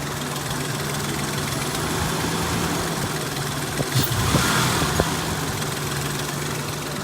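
A car engine idles steadily with a low, continuous hum, with a few faint clicks and brief rattles partway through, no voices over it.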